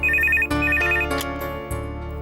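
An electronic telephone ringtone plays a short repeating melodic phrase, loud and close, sounding alone with no voices.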